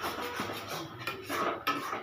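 Sugar and grated coconut melting in a pan as a spatula keeps stirring, giving soft, steady scraping and rubbing with light metallic clinks against the pan, close up and without talk.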